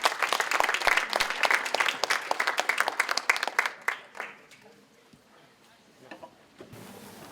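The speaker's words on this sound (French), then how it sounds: "Donc je vous demande d'applaudir Madame Pascal Jablonka." A lecture audience applauds an astrophysics speaker, dense clapping at first that thins and fades out after a few seconds, leaving a quiet room with slight movement.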